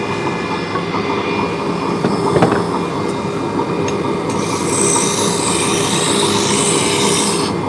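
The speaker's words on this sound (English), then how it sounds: "we're going to switch from the roughing gouge to a spindle gouge" Wood lathe spinning a workpiece while a spindle gouge cuts, a continuous dense whirring rumble with a few sharp ticks and a brighter hiss of cutting near the end, loud and close.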